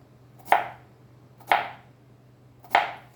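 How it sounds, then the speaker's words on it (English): A knife chops through cucumber for a green salad: three sharp, separate cuts land on a board about a second apart, close and crisp over a faint low hum. "cut the cucumber in this way"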